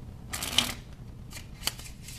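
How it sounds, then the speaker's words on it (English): A deck of playing cards is riffle shuffled and bridged, with a quick close flutter of cards followed by a softer second riffle; no voices. "you're just going to let go, and the cards are going to bridge"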